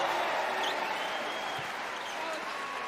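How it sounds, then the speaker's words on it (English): Basketball crowd in an arena cheers as an alumni player checks into a game, a steady, fairly distant roar of voices and clapping with a low background wash throughout. "Crowd cheers as DeAndre Liggins checks into the game for the first time."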